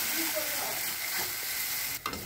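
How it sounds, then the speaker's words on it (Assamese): A spice mixture fries in a kadai with continuous soft sizzling and stirring, fairly quiet and close, with a brief scrape or knock near the end and no voices. "এইখিনি এতিয়া পূৰা ভাজি কেৰাহীত লগা নিচিনা কৰালৈকে ভাজি থাকিম।"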